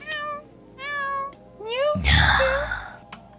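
A cat sound effect repeats four times, each a distinct drawn-out meow, the last louder and rougher. It plays in a game project setup with no talking over it.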